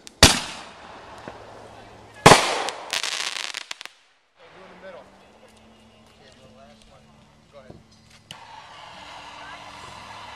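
Fireworks at a backyard 4th of July display, with loud sharp bursts and crackling bangs early on, then quieter crackles and distant pops, with people talking.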